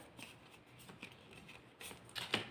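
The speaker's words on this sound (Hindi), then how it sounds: "चलो तो कार्ड्स अरेंज करते हैं" Tarot cards are handled and laid out, giving faint, soft shuffling and sliding rustles in a quiet room, with a slightly louder card snap near the end.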